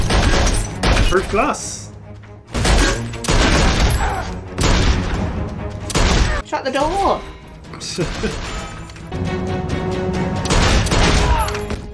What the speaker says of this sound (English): You're shooting at federal agents.